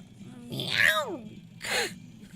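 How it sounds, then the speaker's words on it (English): A cat lets out a drawn-out, falling meow, then a second shorter one a moment later, close and fairly loud over a quiet room. "Cat's a little feisty today"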